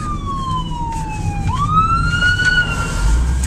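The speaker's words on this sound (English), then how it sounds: "We're gonna slowly pull over the side of the road here to let this ambulance go by" An ambulance siren wails along the road, its pitch sliding down and then rising again as the vehicle approaches and passes close by, loud and continuous over low traffic rumble.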